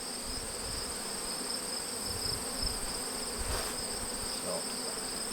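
Honeybees buzzing around hive frames while cell builders are transferred, a dense continuous hum close by with a few louder passes, no talking.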